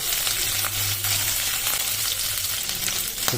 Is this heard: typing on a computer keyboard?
no